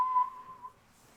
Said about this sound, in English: You didn't hear me whistle the Hunger Games.